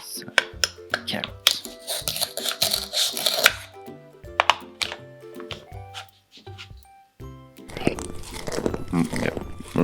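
A toy carrot is cut on a children's toy kitchen set, giving a series of sharp crunching, clacking cuts in uneven bursts, close and fairly loud, with a voice speaking in between.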